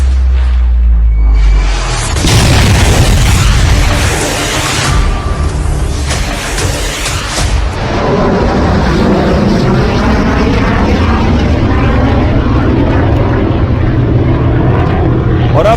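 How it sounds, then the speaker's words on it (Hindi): A BrahMos missile test launch thunders with a loud, sustained roaring rush, starting with a low boom and swelling into a broad, rumbling roar that continues steadily throughout, with no voices present. "पिछले दिनों यह ब्रह्मोस मिसाइल का टेस्ट भारत ने किया है"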